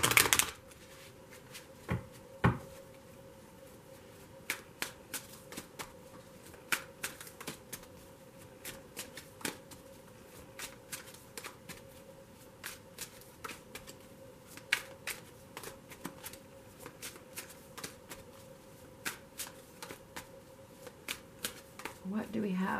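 A tarot card deck being shuffled by hand, crisp riffles and flicks repeating irregularly at close range through a quiet room, with no talking.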